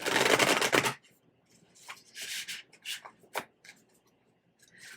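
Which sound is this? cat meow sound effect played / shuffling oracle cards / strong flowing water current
shuffling oracle cards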